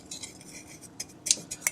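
A metal spoon clinks and scrapes inside a jar of crystallized honey being stirred back to liquid, several short bright taps near the end over quiet background.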